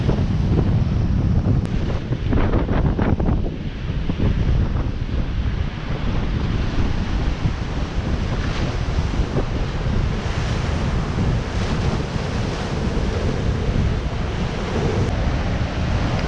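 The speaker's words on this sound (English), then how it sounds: "See some of these big waves coming in." Big storm-driven sea waves crash and roll onto the shore at Blackpool, a continuous loud roar of surf mixed with strong gusting wind buffeting the microphone throughout.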